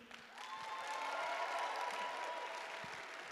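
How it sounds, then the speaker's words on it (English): Audience applause fills a student-union cultural show, a steady wash of many hands clapping for a few seconds at moderate distance, with faint cheering and no voices over it. "Can you guys give them one more round of applause,"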